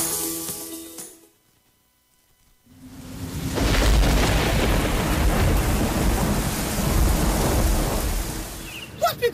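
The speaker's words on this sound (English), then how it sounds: "Now, Denzel, that storm was real bad." Thunder rumbles and booms through a thunderstorm, a brief quiet lull giving way to a loud roar of heavy rain and rolling thunder, ending with sharp crackles.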